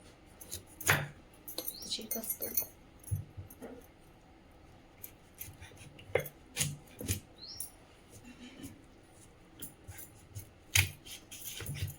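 A knife cuts raw, washed green mango into small pieces, giving scattered sharp clicks and crisp chopping taps at an irregular pace, close up and fairly quiet.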